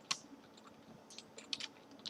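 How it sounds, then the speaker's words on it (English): Shift and arrow keys pressed on a computer keyboard during level-editing work, giving a few faint, scattered plastic clicks with no speech. "You can press Shift and hit arrow key button,"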